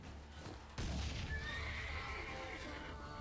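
A horse whinnies in Witcher 3, a loud, sudden neigh breaking in after a quieter game ambience, followed by a long wavering tail with faint hoof clip-clop and game sounds beneath.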